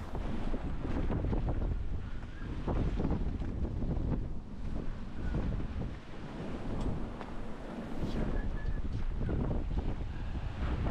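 Wind buffets a singlehanded sailboat at sea off the English coast, a steady loud roar with gusty surges and water wash beneath, continuous throughout with no voices.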